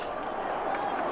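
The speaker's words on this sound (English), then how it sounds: "And the crowd is mildly entertained by that." Stadium crowd at a Jacksonville football game reacting after a made field goal, a broad, moderate murmur and scattered cheering in the distance beneath broadcast commentary.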